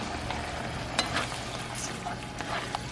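A rajas con pollo mixture simmers in a pan with a steady low sizzle and bubbling, plus occasional light stirring knocks, close and unbroken by speech.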